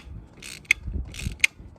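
A ratchet works loose small engine bolts with short bursts of metallic clicking, each ending in a sharp snap, in two close-up cycles with quiet gaps between them.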